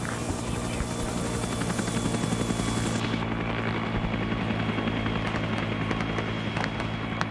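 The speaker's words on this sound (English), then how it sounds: "I see a helicopter coming in with resupply" A helicopter in an Arma Vietnam operation comes in to touch down with resupply at a landing zone, its rotor chopping loudly and steadily up close throughout, with the high rushing whine cutting off partway through.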